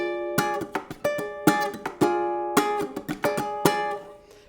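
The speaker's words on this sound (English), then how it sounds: "I have some hits that are happening on the ukulele's neck too" Ukulele strummed in a steady rhythm with sharp percussive hits on the neck between chords, close and bright, about ten distinct accented strokes over a few seconds with no talking.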